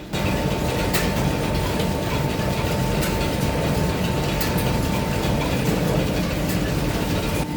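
1890s lathe on a lineshaft with its feed mechanism engaged, giving a loud, continuous mechanical grinding and ratcheting rattle with a steady hum throughout.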